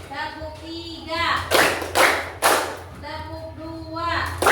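Primary school children clap together in class, a few loud, sharp group claps in rhythm separated by voiced, sing-song chanting from the room.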